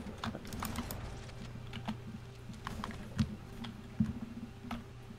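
Keys clattering on a computer keyboard during Halo: Combat Evolved gameplay, quiet irregular taps and clicks with a few sharper, louder strokes over a low background hum.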